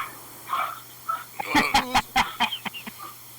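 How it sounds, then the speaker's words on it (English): A dog whimpers and yips in short bursts, moderately close, with faint rustling between the calls and no talk. "You got a dog, Sky?"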